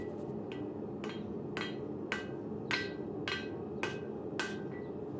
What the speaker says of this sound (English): To start forging the tip of the Santoku, I needed a hammer nearly horizontal with the piece.